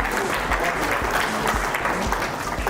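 Audience clapping at the Guru Pranam honour ceremony in Kurukshetra, where teachers and doctors receive awards; a steady, moderately loud patter of many hands fills the hall without a break.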